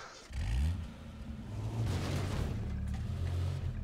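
An engine in the video game H1Z1: King of the Kill revs and rumbles steadily as a car is driven, a low continuous drone rising and falling throughout, close and fairly loud, with no speech.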